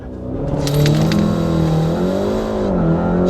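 A VW Golf R Stage 2 Plus making over 400 bhp accelerates hard in a launch run on a wet road, its engine roaring loud and close, the pitch climbing, dipping briefly at a gear change, then rising again.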